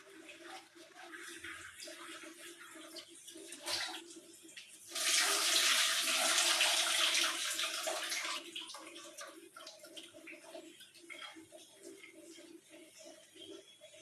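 Tap water gushes for a few seconds while food is rinsed, a rushing splash that rises suddenly and then fades, set amid quieter kitchen handling sounds.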